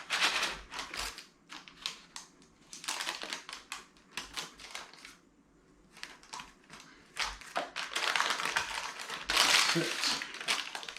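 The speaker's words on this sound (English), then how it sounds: "I'm just going to use a plastic scraper here along the guidelines" A plastic scraper cuts through lardy cake dough in a non-stick tin, giving a run of soft irregular taps and scrapes close by, with brief pauses between strokes and a louder burst near the end.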